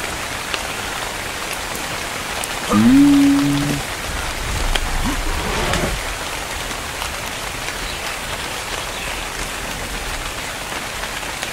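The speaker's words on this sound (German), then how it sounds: "Warum regnet es?" Steady rain falls in the video game Ark, a dense even hiss filling the scene, with a brief tonal game sound partway through and no talk.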